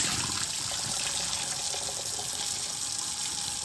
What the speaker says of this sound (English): all you need to do is turn on the water, get it nice and wet underneath, and wring it out.